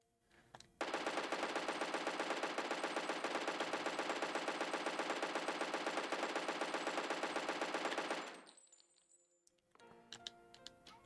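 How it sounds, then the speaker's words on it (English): A machine gun in the video game Alisa: The Awakening fires a rapid, unbroken burst for about seven seconds, loud and even, then cuts off abruptly and is followed by a few faint clicks and clatters. "And then you can also have a machine gun."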